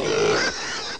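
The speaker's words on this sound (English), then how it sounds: "Pigs have always been a favorite animal of mine." A pig gives a loud, close grunting squeal lasting about half a second, then the sound drops to a lower rough murmur before ending.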